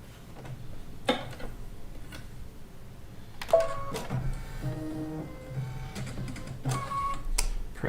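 A computerized sewing machine stitches a quilt block, running with a steady mechanical whir and rapid ticking, with brief tonal beeps and clicks of the machine in between.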